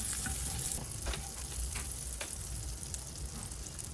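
Butter sizzles and fries steadily in a hot pan while instant ramen is being made, a constant crackling hiss with small pops, close and fairly quiet, with no talking.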